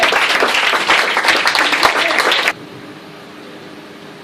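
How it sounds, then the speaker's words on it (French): A church congregation claps and cheers loudly for the Lord in a dense, rhythmic burst of applause that stops abruptly, leaving a quiet room tone. "Est-ce qu'on peut acclamer très fort le Seigneur?"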